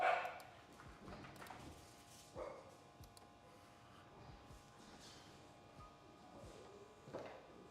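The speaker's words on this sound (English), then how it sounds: "my dogs are going nuts because they see a deer inside" Pet dogs barking excitedly at a deer indoors, several sharp barks and yips spread across the clip with quieter whimpers between, moderately distant in a room.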